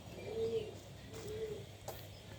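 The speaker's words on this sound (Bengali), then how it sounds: "মাঝে মাঝে আমার কবুতরগুলো এইভাবে বাহিরে ছেড়ে দেই" Pigeons let out into the open air give soft, low coos, two short calls about a second apart. They are faint and somewhat distant over quiet background noise.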